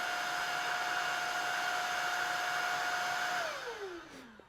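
A Shark Vertex Pro cordless stick vacuum motor runs on eco mode with a steady high whir and airy rush, then winds down in pitch as it switches off near the end.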